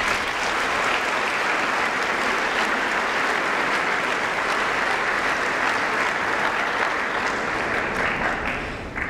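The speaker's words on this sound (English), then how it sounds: "and they all deserve a round of applause" Sustained applause from a large audience at a high school event, dense and steady for the whole span, fading slightly at the very end.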